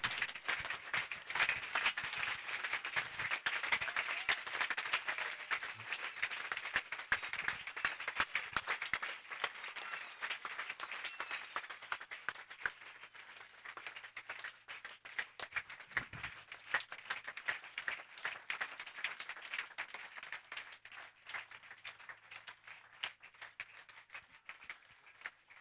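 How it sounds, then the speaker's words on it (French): Crowd applauding at a religious crusade for salvation, healing and deliverance in Bafoussam, a dense, sustained wash of clapping from many hands, steady and moderately loud throughout. "Acclamons Jésus-Christ"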